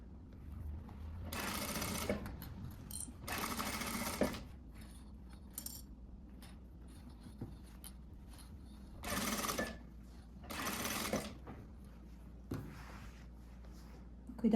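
A sewing machine stitches a blouse sleeve in four bursts of rapid whirring, each a second or two long, separated by quiet pauses with faint handling clicks.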